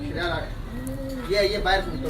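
Pigeons coo in a rooftop loft, a few low rolling calls rising and falling close by while someone talks over them.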